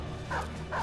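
Dogs bark twice in a video game, two short, close, clear yaps about half a second apart over a steady game background.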